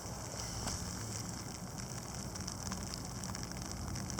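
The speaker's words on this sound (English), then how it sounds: "it's doing some weird ice pellet-ish rain mixed in thing" Light ice pellets mixed with rain falling outdoors during a January wind event, a dense, steady hiss of tiny pellet ticks and patter, continuous and fairly soft, with no voices.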